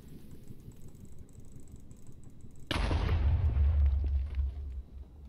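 TNT explosion in Echocraft, a Minecraft-style game: quiet clicking and hiss, then a sudden loud blast with a deep rumbling boom that lingers for about two seconds before tapering off, no voices.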